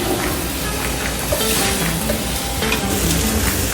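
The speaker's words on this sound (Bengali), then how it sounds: "আপু স্টেকটা নাড়াচাড়া দিচ্ছে" Steak being stirred as it fries in a pan, with halim cooking nearby: a steady, close, continuous sizzle with scraping stir strokes throughout, no talking.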